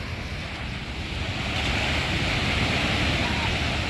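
Sea waves at Kozhikode beach make a continuous loud wash of surf under gusty wind rumble, building slightly stronger partway through, with no voices.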